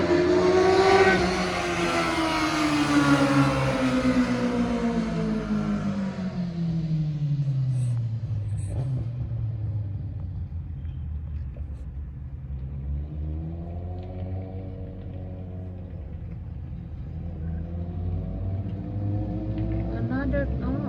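A motorcycle roars as it circles a street in Italy, its engine rising and falling as it revs, approaches and pulls away, loud at first and then sweeping off into the distance.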